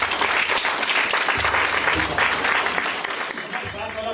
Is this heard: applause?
yes